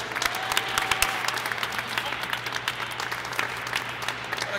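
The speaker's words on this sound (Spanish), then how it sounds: "Un aplauso para él." Applause at a FIFA video game tournament as a player is introduced, a moderate round of clapping with distinct sharp claps and a low steady hum underneath.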